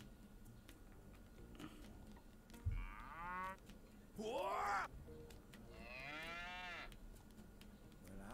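Bororo cattle in the video game Sand Land mooing in several drawn-out, groaning calls, one after another and fairly loud, over a quiet game background, with a brief word spoken near the start.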